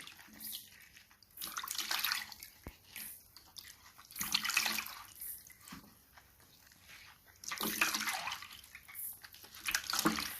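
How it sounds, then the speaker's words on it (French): Okra being washed by hand in water, with intermittent splashing and swishing bursts close by, separated by quieter drips and handling sounds. "Je vais d'abord laver mon gombo."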